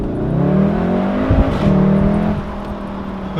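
Estate car engine in race mode revving hard close by, a loud rising growl with gear shifts and a brief pop partway through, then settling into a steady roar.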